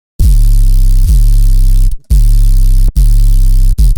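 Heavy dubstep sub bass notes hit in repeated bursts with a white noise layer hissing on top, cutting off sharply between phrases; loud and dense.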